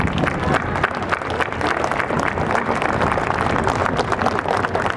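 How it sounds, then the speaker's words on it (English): A crowd at a memorial commemoration gives a dense, continuous round of applause, loud and sustained without pause for the whole stretch. "Let's give them a round of applause"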